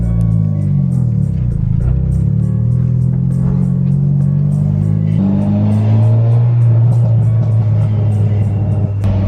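An EG hatchback fitted with a screamer exhaust pipe revs loudly up close, its engine note rising and falling through sustained, raspy pulls with a rumbling low end.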